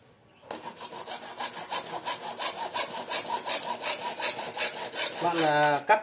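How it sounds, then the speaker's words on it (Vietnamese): Hand sawing through material for a homemade water float valve for an underground tank, a close, steady back-and-forth rasp of even strokes, ending in a brief scraping squeak. "Bạn cắt thì kê chắc nhé, giữ chắc thì dễ cắt."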